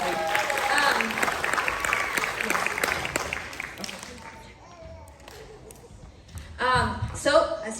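An audience at a dance showcase claps for several seconds, fairly close and steady, before the applause fades out and a voice begins speaking over it.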